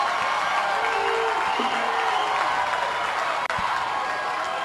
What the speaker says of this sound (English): you can hear their crowd get fired up a little bit